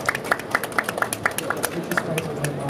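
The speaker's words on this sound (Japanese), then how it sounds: "大きな拍手で、お送りください" Audience applause at a trade-show booth session, a small crowd clapping in a quick, irregular patter with a voice speaking over it near the end.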